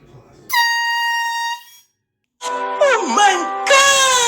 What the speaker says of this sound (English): The air horn isn't acting right either. So we're gonna try it again.